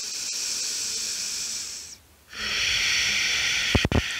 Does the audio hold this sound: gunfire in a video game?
no